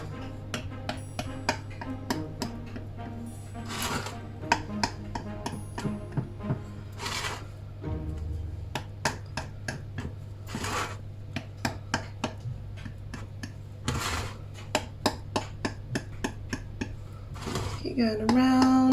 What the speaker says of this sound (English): Just prick the sides, docking it, as I said.